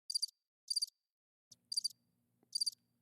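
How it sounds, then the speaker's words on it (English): Crickets chirp in four short, evenly spaced bursts, played as a clean sound effect; a faint low hum joins in partway through. "That was crickets."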